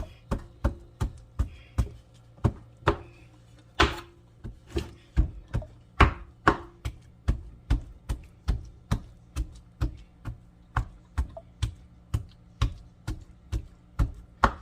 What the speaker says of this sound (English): I'm going to use this to start my chopping.